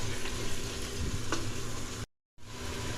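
Vegetables for a meatless mutton-style curry are mixed in a hot pan with a loud, dense, continuous sizzle up close; the sound cuts out completely for a moment, then resumes.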